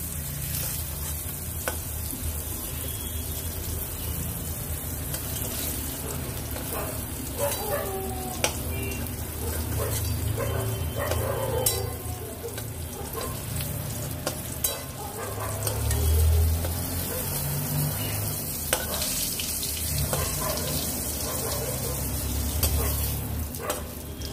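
Pointed gourd pieces fry in hot oil with a poppy seed tempering, giving a steady crackling sizzle throughout, with occasional stirring scrapes and clinks, no talking.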